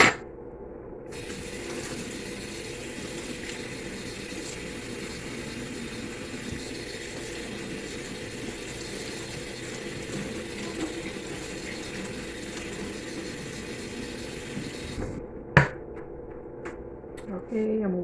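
Scallions being rinsed under a steady stream of running tap water, a continuous close gush that holds evenly for about fifteen seconds before cutting off, followed by a few small knocks and clatters.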